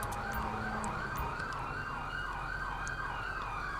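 An ambulance siren from the GTA V LSPDFR police game wails in steady rising-and-falling sweeps, loud and continuous over a constant vehicle rumble, with no talk.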